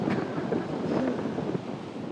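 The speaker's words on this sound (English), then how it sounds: "The wind's blowing like 120. Gusting 190." Strong, gusting wind roars across the microphone as a constant, loud rumbling buffet, with no talking, outdoors during a deer hunt.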